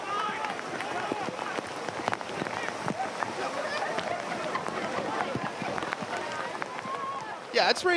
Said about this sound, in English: it's raining pretty hard, to say the least